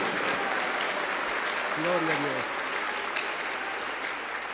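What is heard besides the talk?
church congregation applauding the youth choir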